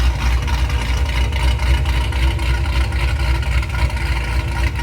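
Hennessey-tuned 1000 HP Cadillac CT5-V Blackwing V8 idles steadily, a deep continuous low rumble with a constant even pulse, close and loud, cutting off abruptly at the end.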